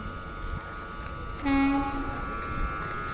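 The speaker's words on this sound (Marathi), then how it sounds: "इकडनं येते रेल्वे" A train arriving at a station rumbles in the distance and sounds a short, two-toned horn blast midway, over steady low background noise.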